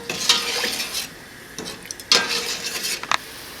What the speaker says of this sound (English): And then you want to stir constantly into a rolling hard boil.